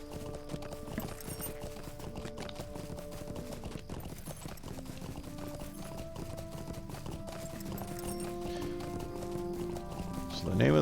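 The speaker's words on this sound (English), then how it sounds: "Jump on our horse and we'll take the back way out." Horse hooves clip-clopping at a steady gallop in the online game Lord of the Rings Online, a continuous rhythmic patter under game music, with a voice talking over it at moments.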